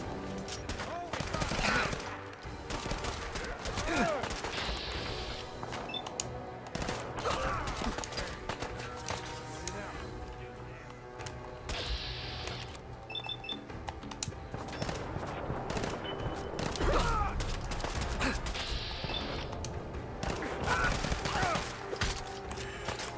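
A 10mm freeze gun in burst-fire mode in Fallout 4 shoots repeated rapid bursts through a busy game-combat mix, with short volleys recurring across the stretch, moderately loud.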